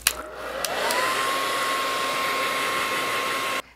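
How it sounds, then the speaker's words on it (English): A handheld blow dryer set to high speed and high heat switches on with a click and roars steadily at close range for a few seconds, warming an eyelash curler, then cuts off abruptly. "So I'm gonna turn my blow dryer on to high speed and high heat"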